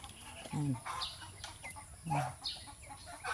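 Laying hens cluck in short bursts close by, a few throaty calls spaced across the moment, with a person talking softly in between.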